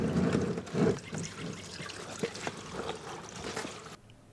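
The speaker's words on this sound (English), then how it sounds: "anticipate the trajectory of the oil as it is coming out of the engine" Motor oil drains from the 3.5L engine of a 2010 Toyota Camry during an oil change, a close, steady trickle and splatter into a pan that cuts off abruptly at the end.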